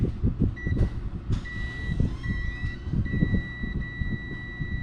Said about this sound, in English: you should be able to hear the beep